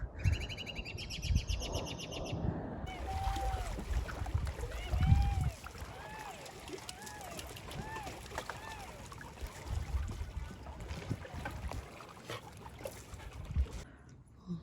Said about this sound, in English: there's a little bit more of the robin song in there